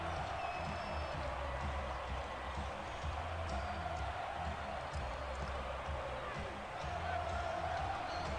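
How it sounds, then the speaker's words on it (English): Steady, dense crowd roar fills a college football video game stadium during a homecoming game, holding at a constant loud level throughout with babble-like texture and no distinct peaks. "The crowd is on fire today."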